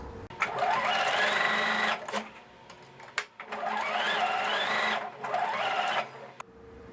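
A domestic sewing machine stitches a seam along brown fabric in two bursts of fast, even whirring, each a couple of seconds long, with a brief pause between them.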